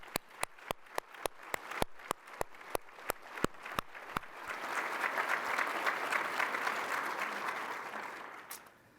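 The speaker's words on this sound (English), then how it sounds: "So no, we haven't had a round of applause for Steve Grossman" An audience at a 2019 business conference applauds: a dozen evenly spaced sharp claps ring out first, then the full room joins in a sustained, swelling round of applause that tapers off near the end.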